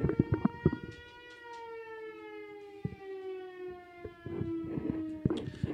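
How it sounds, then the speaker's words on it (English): A noon siren just outside a window wails in long, steady rising tones, clear and fairly close, with sharp knocks and clatter in the room breaking through now and then. "Every day at noon, right outside this fucking window, a siren goes off."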